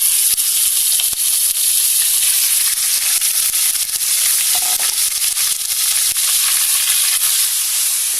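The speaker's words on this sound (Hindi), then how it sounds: "उसमें ऑयल डाल दिया। ऑयल हमने 3 टेबल स्पून के जितना डाला है। उसमें हम चिकन डाल देंगे।" Chicken frying in about three tablespoons of oil in a kadai: a loud, dense hiss and sizzle close by, steady throughout with small crackling bursts and no talking.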